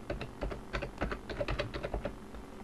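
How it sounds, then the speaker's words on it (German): Someone types an admin password on a computer keyboard while installing software on a Linux desktop, with rapid, uneven clicking keystrokes that sound close and clear. "gebe das Admin-Passwort ein"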